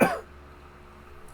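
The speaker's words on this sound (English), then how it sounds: "As demonstrated, I have a bad cough." A single harsh cough from someone who is sick, loud and close at the very start, then fading into quiet room tone.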